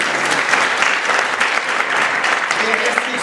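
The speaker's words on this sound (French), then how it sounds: "On peut l'applaudir, hein?" Audience applause at a French-language theatre performance of Antigone, a dense, steady wash of many hands clapping at close range through the whole stretch, with a voice briefly audible over it near the end.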